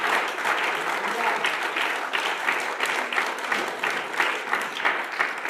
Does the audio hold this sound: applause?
yes